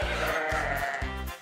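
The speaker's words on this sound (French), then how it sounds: "Cette chèvre fera un bon repas." Goat bleating on a farm in an animated children's cartoon, three loud, drawn-out bleats in steady succession, close and clear with no talking over them.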